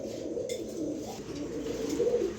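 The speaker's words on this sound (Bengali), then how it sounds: "সেরকম সাইজের এক পেয়ার মুন্ডিয়ান কবুতর আছে" A pair of large Mundian pigeons coo in soft, repeated low murmurs, close by and steady throughout.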